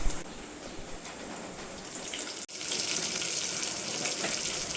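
Dried red chillies, chopped shallots and curry leaves fry in a hot pan, giving a steady, close, hissing sizzle throughout with a brief dip partway through, no voices.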